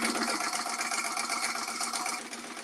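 A sewing machine stitches a quarter-inch seam straight across an accordion clutch, a fast, even mechanical chatter of the needle running continuously up close and easing slightly toward the end.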